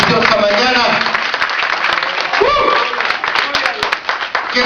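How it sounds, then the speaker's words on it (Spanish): A congregation applauds during a Sunday morning sermon, with loud, dense clapping close by that thins and fades toward the end, and voices mixed in. "Alguien de un aplauso en esta preciosa mañana"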